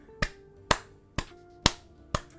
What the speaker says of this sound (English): I gotta give some claps